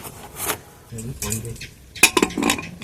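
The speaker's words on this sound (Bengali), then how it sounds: "ঢাকনা দিয়ে দিলাম কুকারটা একটু গরমই আছে" A metal lid set onto a still-warm pressure cooker while pizza is made inside, giving a couple of clinking, scraping metallic knocks alongside a few light kitchen clatters, close and fairly loud, with a voice talking in between.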